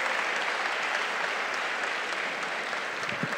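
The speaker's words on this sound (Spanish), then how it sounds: "el aplauso a ellas tres" Sustained applause from an event audience honoring three winners, a thick continuous clapping texture at steady volume with faint crowd noise beneath.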